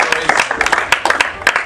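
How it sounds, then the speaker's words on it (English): Audience applause at the Roast of Jake Anderson, a live roast event, with dense overlapping claps and some crowd noise throughout, loud and close. "a big round of applause for Jacob for putting up with all this BS"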